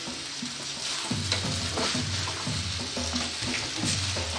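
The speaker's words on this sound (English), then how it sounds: "then we begin to turn in the wok" Fish and pasta stir-fry being turned in a wok with a pasta spoon, giving steady sizzling with repeated scraping and clattering strokes in a loose rhythm, moderately close and without talk.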